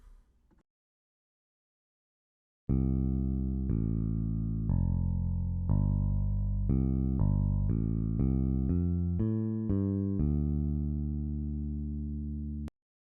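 A sequence of sustained low piano notes and bass tones stepping through a progression, each note ringing steadily before the next, with no talking.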